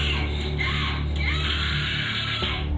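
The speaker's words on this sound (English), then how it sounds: "She just screaming in rage at the top of her lungs." A woman screams in rage at the top of her lungs, a loud sustained raw yell that wavers and breaks over nearly three seconds, close and alone.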